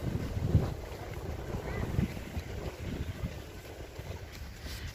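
A boat out on the sea in strong wind, with steady low rumble and wind buffeting the microphone throughout, a few brief thumps near the start and faint waves underneath.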